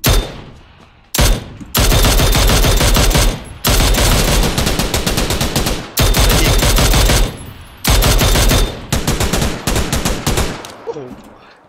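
Sustained bursts of rapid gunfire from a Mini-14 replica gun, loud and close, in several long continuous volleys broken by brief pauses.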